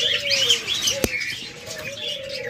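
A pair of Japanese pet birds chirps and tweets at a sale stall, with bursts of high, busy calls across the whole stretch, a brief wing flutter partway through and steady background noise.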